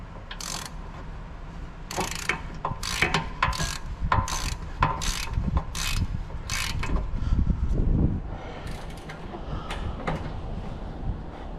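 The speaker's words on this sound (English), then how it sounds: "We pre-torque it, and then we're using torque wrench, proper one." A torque wrench tightening wheel bolts on an Audi A7 C7 3.0 TDI quattro during a wheel and brake upgrade: a series of close, sharp ratcheting clicks in quick bursts, followed by quieter, scattered clicks and faint workshop noise.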